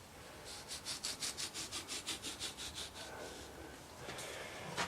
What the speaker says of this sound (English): A thin wall stainless steel pipe makes an excellent sprue cutter.